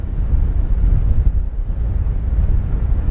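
Wind gusts roar steadily across the top of a grain leg on a farm, a dense, rumbling buffet against the microphone that holds loud and unbroken with no voices.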